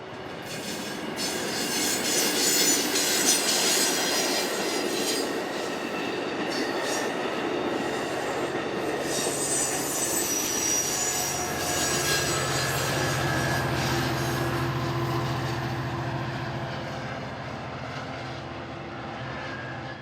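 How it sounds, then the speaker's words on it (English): A northbound passenger train led by a former F40 locomotive rumbles past, a steady roar of engine and rolling wheels with some metallic squeal, swelling and then easing as the cars go by at moderate distance. "The train headed north, with the former F-40 leading."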